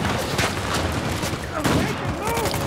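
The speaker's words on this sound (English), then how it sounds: "That's a freaking shotgun!" Shotgun blasts in the video game Uncharted 4 ring out as several sharp, booming bursts spaced irregularly over steady game ambience and action noise.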